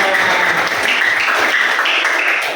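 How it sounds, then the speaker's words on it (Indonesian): A class of students applauds together in a lesson, a loud, steady wash of clapping filling the whole stretch without pause. "tepuk tangan untuk kita semua"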